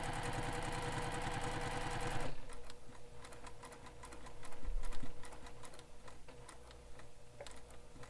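A sewing machine stitches the corners of a Leannan bag, running in a loud, fast, steady burst for about two seconds and then falling to quiet handling and light ticking.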